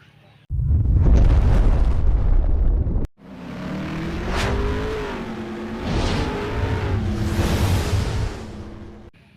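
A used-oil burner stove, a DIY kalan de use oil with a curved burner, gives a loud, steady roaring flame that runs continuously close to the microphone, swelling and easing slightly over time.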